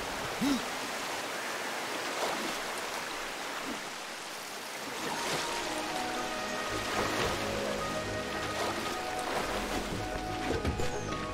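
Flowing water in the video game Darksiders II, a steady rushing and splashing stream that briefly dips before a denser, louder pour resumes, with scattered clicks and tones layered on top.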